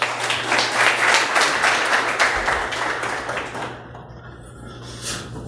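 Audience applause welcoming Samsung Electronics engineer Lee Sang-ho onto the stage at an AWS Kubernetes tech talk, a steady wash of clapping through a hall that thins and fades toward the end.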